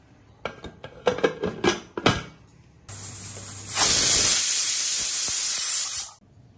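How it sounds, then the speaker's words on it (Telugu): A pressure cooker of mixed biryani made with small pearl-grain rice: a few sharp clatters and taps, then a loud, sustained whistling hiss of escaping steam that swells and runs for about three seconds before cutting off. "కుక్కర్ మూత పెట్టేసి 2 విజిల్ రానివ్వాలి"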